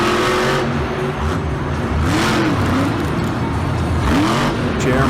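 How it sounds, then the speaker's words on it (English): A monster truck engine revs repeatedly at a Monster Jam freestyle event in Seattle, loud rising and falling roars over crowd noise, with commentary voices talking throughout. "The truck just kind of looks like it's not really getting full throttle when he hits the gas"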